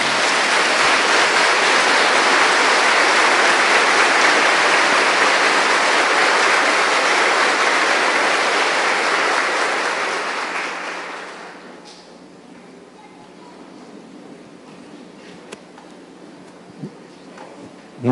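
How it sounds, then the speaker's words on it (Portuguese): A church congregation welcoming its new parish priest at his installation Mass bursts into dense, loud, sustained applause for about ten seconds, then fades out quickly, leaving a quiet room with a few faint knocks. "vamos acolher o nosso novo pároco com a salva de palmas"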